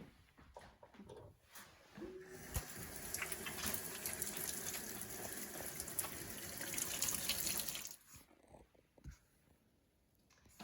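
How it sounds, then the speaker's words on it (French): Room-temperature or lukewarm water, 650 grams, poured into flour to make sourdough bread dough: a faint, steady splashing pour lasting about six seconds, with small clinks and knocks before and after. "Maintenant, je vais mettre donc mes 650 grammes d'eau"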